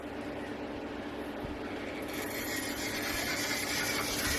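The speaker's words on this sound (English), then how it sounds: "That's the motor and the gearing" A GWR Manor Class model locomotive's motor and gearing run steadily up close, a faint continuous whirring grind that grows slightly brighter halfway through.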